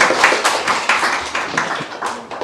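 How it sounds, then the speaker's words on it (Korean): A small church group claps briefly, quick uneven hand claps close by with a few scattered accents. "박수 드려, 박수."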